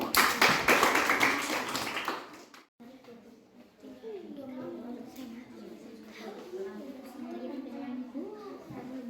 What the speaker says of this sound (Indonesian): Silakan kembali, kita berikan tepuk tangan lagi.